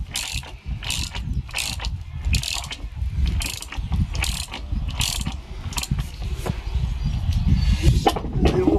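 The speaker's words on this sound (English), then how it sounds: "You are going to need breaker bars for all the bolts" Repeated ratcheting clicks from a breaker bar working the bolts on a Triumph Trophy 1215 motorcycle while fitting R&G adventure bars, coming in short close bursts with mechanical clatter between them and no talk.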